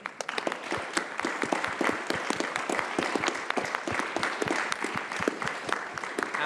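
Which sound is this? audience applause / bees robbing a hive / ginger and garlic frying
audience applause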